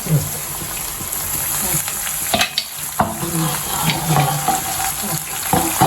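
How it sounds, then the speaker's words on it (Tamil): Ridge gourd sautéing in a pan: close, steady sizzle with repeated scraping stirs of a spatula against the pan, continuous through the whole stretch. "பீர்க்கங்காவை வதக்கிட்டு மூடி வதக்குவேன்."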